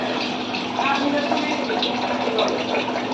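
Rice washed in a vessel with clean water, a steady continuous swishing and pouring of water running close and fairly loud throughout, with no talk over it.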